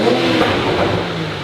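A Toyota Supra mk5 fitted with a new exhaust and intake revs loudly and close, a dense, steady engine roar filling the short burst.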